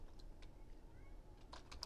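Quiet typing on a computer keyboard, a few scattered close key clicks over faint room hum, with no talking.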